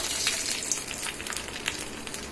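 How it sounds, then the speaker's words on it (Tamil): Mustard seeds, dried red chillies and curry leaves crackle and sizzle in hot oil for a tadka, a dense continuous frying hiss with scattered sharp pops, close and alone. "அந்த எண்ணெயில இந்த காஞ்ச மிளகாவும் போட்டுடலாம் கருவேப்பிலையும் போட்டுடலாம் தாளிப்பை சேர்த்துடலாம்"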